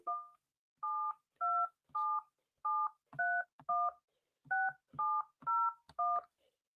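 Touch-tone keypad beeps from a telephone being dialed to reconnect a phone line, about a dozen clear two-tone presses in an uneven rhythm, close and alone with no talking.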